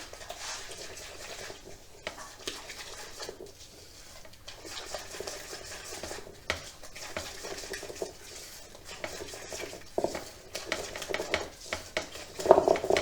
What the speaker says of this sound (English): Beat your egg in